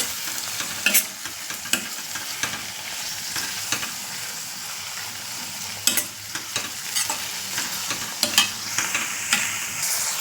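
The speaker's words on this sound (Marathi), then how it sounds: "त्याच्यात हे टॅमॅटो पण मी टाकत आहे बघा ते पण परतवून घेत आहेत" Chopped tomatoes sautéed in a pan while cooking a Palghar-style creek clam dish, with a constant sizzling hiss broken by sharp stirring scrapes and knocks, close up and without speech.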